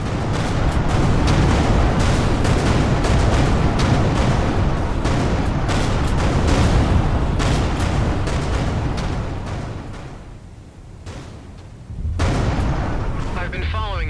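A huge, sustained explosion rumbles and roars in the space-combat game Everspace 2, a dense, loud wall of blasts that briefly dips before surging back.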